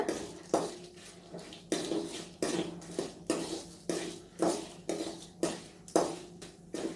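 A spatula scrapes and knocks rhythmically in a pan where peanuts, lentils and dried red chillies roast for a curry leaf chutney, with close, crisp strokes about every half second and no talk.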